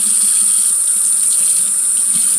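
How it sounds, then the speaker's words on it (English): Tap water runs steadily into a sink, tempered for bathing a cat, a loud close continuous hiss and splash with no talk over it. "Gotta temper the water."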